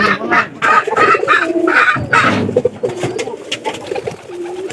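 Several pigeons in a loft coo close by in repeated, throaty bursts that overlap in an uneven rhythm, fairly loud, with soft rustling between calls.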